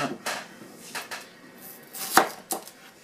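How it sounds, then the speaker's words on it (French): A knife chops through a firm vegetable on a cutting board for a vegetable soup, with several irregular close thuds and one sharper, louder knock near the end. "Donc avant-dernière étape, nous allons couper maintenant ce légume."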